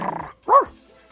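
A dog gives a single sharp, close bark right after a brief stretch of low murmuring noise, then the room goes quiet.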